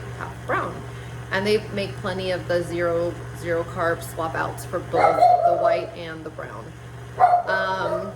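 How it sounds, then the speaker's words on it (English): A pet dog barks and yips several times indoors in short bursts, mostly under a person talking steadily over a constant background hum. "Sorry about my dog there."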